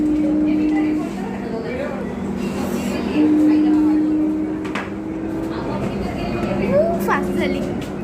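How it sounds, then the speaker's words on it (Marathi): Pune Metro train running between PCMC and Civil Court, heard from inside the carriage as a steady rumble with tonal whines from the motors, while people talk over it. "मेट्रो चाललंय"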